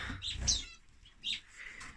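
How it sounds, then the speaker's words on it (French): A pair of sparrows kept in an aviary give short high chirps, two brief bursts close by with a quiet pause between. "Ici, toujours un couple de moineaux."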